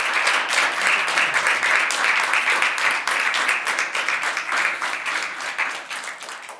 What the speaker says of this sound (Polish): możemy sobie pozwolić na wielkie brawa dla wszystkich nominowanych z laureatem na czele